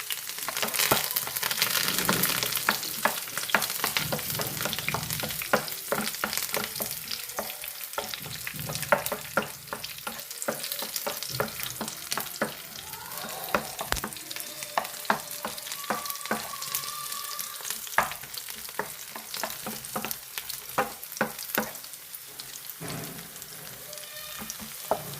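Shallots, chillies and curry leaves fry in hot oil for a mango-ginger chutney, giving a continuous close sizzle with frequent clicking scrapes of a spoon stirring in the pan.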